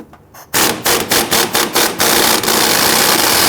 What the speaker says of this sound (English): Remove that bolt, and then we'll get the one on the other side.